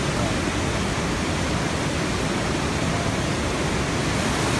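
Rushing floodwater roars beneath a submerged walkway, a loud, constant broadband torrent that never lets up.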